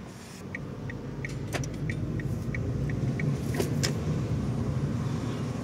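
Inside a Haval M6 being driven, a low road rumble fills the cabin, with faint, light ticking clicks repeating at a fairly regular rhythm over it and no talk.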